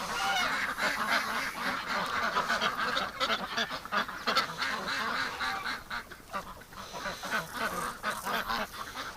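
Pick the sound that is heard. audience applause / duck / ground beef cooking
duck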